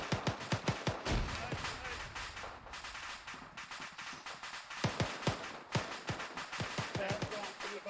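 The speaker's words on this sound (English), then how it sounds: "We're taking heavy fire from the south." Gunfire during squad training: rapid volleys of sharp shots, some close and loud and others more distant, cracking in bursts throughout, with a brief lull in the middle.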